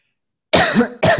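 Two sharp coughs close to the microphone after a moment of silence, the first longer, the second quick.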